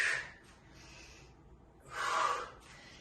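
Heavy, breathy exhales and inhales from someone doing racked reverse lunges, with two louder forceful bursts on the push and softer breaths in between, close and alone without talk.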